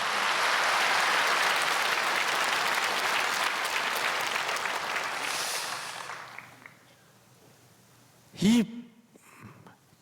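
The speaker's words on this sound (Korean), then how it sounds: "박수 치세요." A church audience breaks into hearty applause, dense and full at first, then fading away by the sixth second, followed by a short burst of a voice in the quiet.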